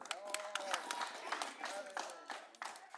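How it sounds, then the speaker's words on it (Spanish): An audience claps for a woman named Miriam at an outdoor community gift-giving event, with quick, fairly faint rapid clapping that runs through the whole moment amid crowd murmur. "Muchos aplausos para Miriam."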